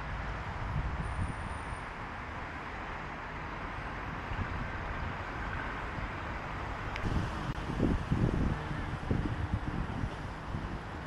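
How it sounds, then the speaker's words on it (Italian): Strong wind buffeting the microphone in the Medina of Tangier, Morocco, a steady loud roar throughout with heavier gusts near the end, no voices heard. "C'è un vento allucinante"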